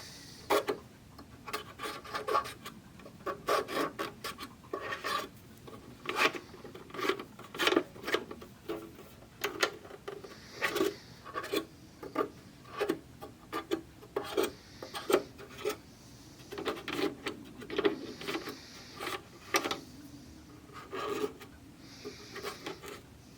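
Technics SH-8017 graphic equalizer parts are scrubbed with a cotton bud on a stick, giving repeated short rubbing and scraping strokes in an irregular rhythm, close and moderately quiet.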